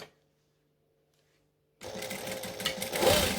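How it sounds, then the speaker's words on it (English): After a near-silent pause with a faint hum, a sewing machine starts stitching a fabric seam on a saddlebag, running as a fast, steady, close-up mechanical whir until the end. "So I'm going to open this out flat and sew the seam"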